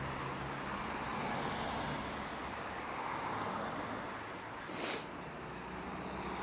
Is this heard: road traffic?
yes